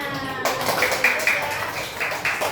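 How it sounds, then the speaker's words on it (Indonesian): Classroom applause for a pupil named Yuna: scattered, uneven clapping bursts rise after a brief pause and repeat in short waves, with a teacher's voice talking over them. "Tepuk tangan untuk Yuna"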